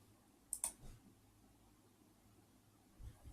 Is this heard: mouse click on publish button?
yes